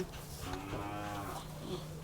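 Cattle of the red Isan breed and white Central Thai breed moo in a long, low, drawn-out call, close and clear over steady background noise on a cattle farm.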